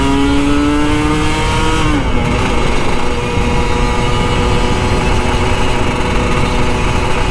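An old Kawasaki Ninja RR 150 two-stroke motorcycle engine revs loud and close, a steady high-pitched whine with a pitch drop around the two-second mark before holding steady.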